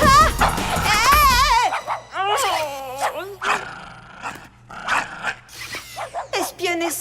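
Cartoon dog barking and growling from an animated spy series, a run of yips and gruff growls over a steady background score, loud and close, with other cartoon vocal sounds mixed in.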